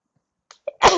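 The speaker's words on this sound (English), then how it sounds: "I thought I had more time to prepare for that sneeze" A couple of small sharp inhales lead into one loud, close sneeze that bursts out and trails off at the end.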